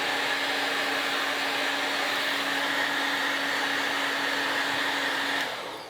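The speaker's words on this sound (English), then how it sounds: "I'm just gonna take this piece and we're gonna blow dry it as we normally would." A hair dryer roars steadily while blow drying a section of hair, a loud continuous airy whoosh with a faint tonal hum, running unbroken before switching off at the very end.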